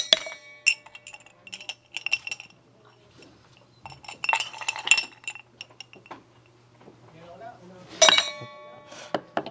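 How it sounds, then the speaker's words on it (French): Ice cubes clink and rattle as they drop into a metal cocktail shaker in a school bar class, in several sharp bright bursts with quiet gaps between them. "il met les glaçons dans le shaker"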